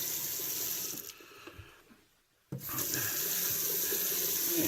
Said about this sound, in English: Wash this razor off here and dry it real quick.